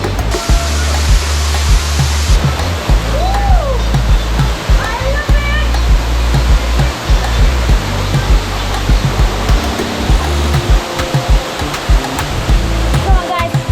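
Steady roaring rush of Sugarloaf Falls, a hidden waterfall on a nature hike near Kingston, loud and close throughout, with churning splashes and faint voices briefly under the constant water noise.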